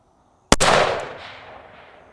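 A single loud rifle shot from a CMMG Endeavor AR10 in 6.5 Creedmoor at long range, a sharp crack followed by a rolling echo that fades over more than a second, with silence before it.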